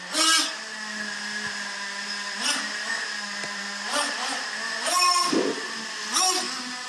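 A Traxxas Revo 3.3 nitro RC engine runs near and loud as a steady high whine, swelling in several short revs and surges as it bogs after a needle adjustment.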